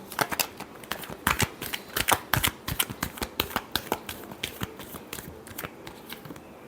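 Tarot cards shuffled by hand in a quiet room, a rapid series of crisp riffling snaps and flicks in uneven bursts, close and fairly soft, with no talking.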